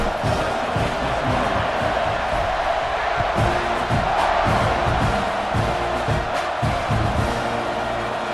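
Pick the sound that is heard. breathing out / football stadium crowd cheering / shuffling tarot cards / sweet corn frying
football stadium crowd cheering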